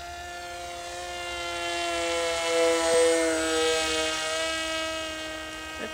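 A small brushless-motor model aircraft holds stabilized flight, giving a steady high-pitched electric whine that swells as it passes nearer, then eases slightly, heard alone outdoors.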